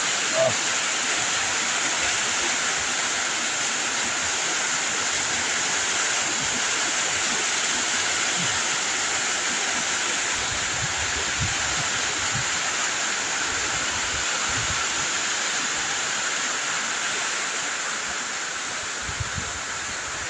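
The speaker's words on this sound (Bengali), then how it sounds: "এই বৃষ্টি শুরু হয়ে গেল। কি বৃষ্টি পাহাড়ে!" Steady rain pours down in hilly jungle country, a dense, continuous hiss that stays loud and even from start to finish, with no voices over it.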